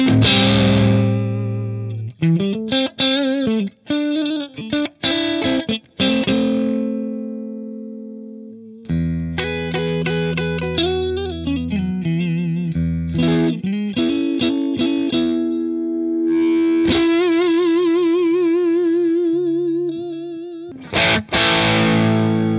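An electric guitar through a cranked Marshall JTM45 tube amp with a tube rectifier, heavily compressed and saturated, plays loud distorted chords and sustained single-note lines with bends and vibrato, continuous and alone.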